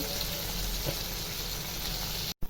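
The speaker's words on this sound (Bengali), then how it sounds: "এই তো পটল আর আলুটাকে আমি এইভাবে ভেজে নিচ্ছি" Continuous close sizzling of pointed gourd and potato frying in hot oil, a dense steady hiss that cuts off abruptly near the end.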